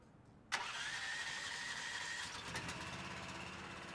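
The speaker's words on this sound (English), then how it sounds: "We are utilizing a gas engine for this test model." A gas engine powering a pipe roller demonstration rig at a water jetting expo cranks and catches abruptly, then settles into a steady mid-pitched running drone, heard up close with no talking.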